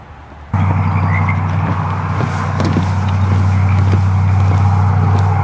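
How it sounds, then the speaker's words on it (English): Tree frogs croak in a steady, near chorus of repeated calls against a constant low drone of road traffic near Mount St. Helens and Seaquest State Park, starting abruptly and continuing evenly throughout. "It's called the Song of the Tree Frog with road noise in the background."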